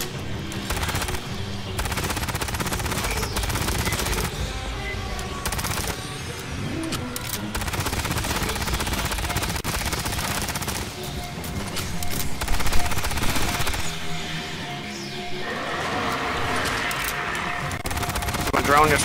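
Sustained automatic weapon fire from a Hyper-Phalanx build in Aliens: Fireteam Elite, rapid bursts and fusillades under game music and effects, with a few brief voices over the shooting.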